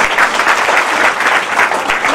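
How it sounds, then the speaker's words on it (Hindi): A full hall at a business training session breaks into sustained, loud clapping for Surendra Vats, steady crowd applause with no pause. "सुरेंद्र वत्स साहब के लिए एक बार तालियां होनी।"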